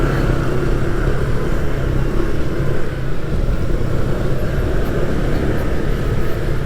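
A Honda ADV 160 scooter engine revving steadily as it climbs a mountain road, with a loud, constant drone close by and no speech.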